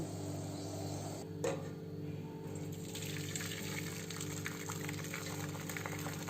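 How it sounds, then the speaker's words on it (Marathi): Hot sugar syrup for gulab jamun is poured through a strainer in a home kitchen, giving a steady, close trickling and gushing of liquid that runs on without a pause and with no talking. "आता हे पाक आपण गाळून घेऊ।"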